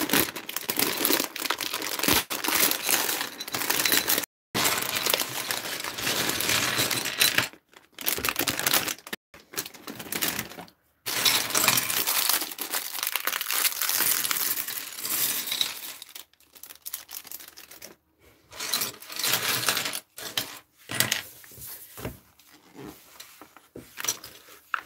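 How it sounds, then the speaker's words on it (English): A plastic Lego parts bag crinkles loudly up close as it is torn open and handled, with the pieces tipped out in a clattering jumble amid repeated rustling bursts and short pauses. "Let's open this bag up."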